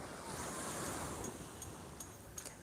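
Sea waves wash ashore at Jomtien Beach at sunset, a soft continuous surf hiss mixed with faint wind, fairly quiet and steady.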